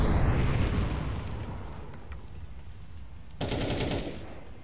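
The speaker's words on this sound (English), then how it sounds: "Throwing a grenade" A grenade thrown and exploding in CS2, a muffled rumbling blast decaying over several seconds, followed by a sharper burst of noise near the end, moderately quiet with no voices.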